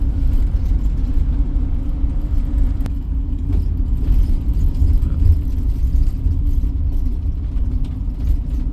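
Steady, close rumble of a camper van's engine and tyres cruising along a road through the Todra Gorge in Morocco's High Atlas, with occasional faint rattles and no voices.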